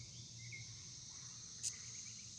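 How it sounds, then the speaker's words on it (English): Faint, steady high-pitched buzzing of cicadas in a garden planted with cosmos and sunflowers, a continuous distant drone with a brief brighter chirp partway through, otherwise quiet. "Oh look, our friend, the lovely cicada."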